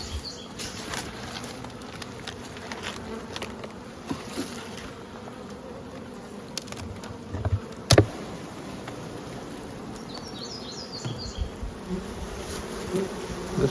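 Honeybees buzzing around an open hive outdoors, a steady close swarm drone with individual bees droning past the listener and a brief sharp knock partway through.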